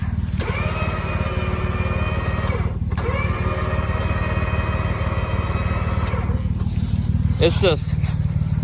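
A Jeep is dragged during an off-road recovery while an engine drones loudly and steadily, cutting out briefly twice before resuming, with a higher whine near the end and voices in the background.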